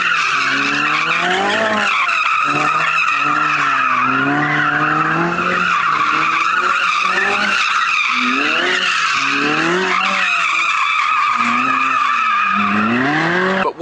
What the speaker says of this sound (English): hopped in his Novatec 458 Spider and drifted round them